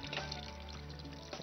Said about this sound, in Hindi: ये लीजिए पानी इसके अंदर